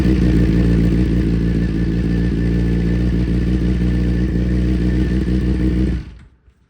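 A Suzuki GSXR600 motorcycle fires up after repairs, its engine idling with a rough, steady clattering rumble for about six seconds before it cuts out abruptly into silence.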